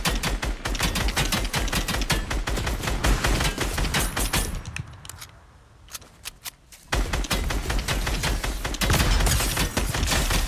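Rapid gunfire in Fortnite rattles out in dense, loud automatic bursts of sharp cracks, with a short lull of scattered single shots midway before the heavy firing resumes.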